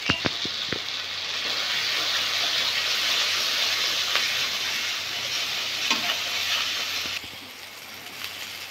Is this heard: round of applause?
no